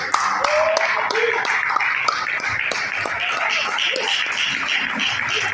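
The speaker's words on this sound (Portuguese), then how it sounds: "Louvando ao Senhor com palmas" A church congregation claps in praise, a run of quick, uneven hand claps sounding close against a steady murmur of voices speaking Portuguese.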